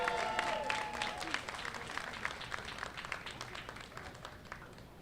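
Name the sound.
applause for the Borough President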